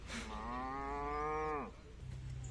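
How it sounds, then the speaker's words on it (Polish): A calf on a farm in the Bieszczady region gives one long, loud, close moo lasting over a second, rising slightly before breaking off, with faint farmyard background noise afterward. "Mamy cielaczka."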